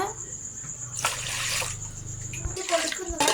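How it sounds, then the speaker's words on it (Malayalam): Water poured into an idli steamer pot in a home kitchen, a steady splashing pour that runs for a couple of seconds and then stops, followed by a few light clatters. "ഇഡലിക്കൂട്ടത്തിൽ ഇനി ആവശ്യത്തിന് വെള്ളം ഒഴിക്കുന്നുണ്ട്"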